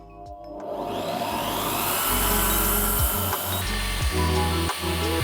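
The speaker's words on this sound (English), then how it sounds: "let's actually do some drilling" A Bosch PBD40 drill press spins up with a rising whine, running steadily for several seconds with brief pauses and clunks as it bites in.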